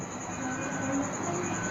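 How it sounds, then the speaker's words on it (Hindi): A railway train rumbles steadily past with a continuous low roar and a high whining tone on top, even and unbroken throughout, at moderate distance with no speech. "रेलगाड़ी।"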